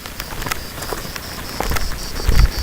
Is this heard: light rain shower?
yes